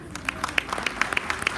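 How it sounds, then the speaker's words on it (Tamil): An audience at a South Florida Tamil association event claps to welcome a speaker, a brief patter of individual claps, fairly close, over a low room murmur. "அவரை நாம் பெரிய கைத்தட்டலுடன் வரவேற்போம்."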